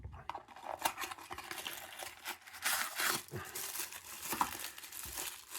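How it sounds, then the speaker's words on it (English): Plastic packaging rustles and crinkles in close, uneven bursts as a new padlock is unboxed, with sharp crackles and short pauses between handlings. "Sorry for the rustling."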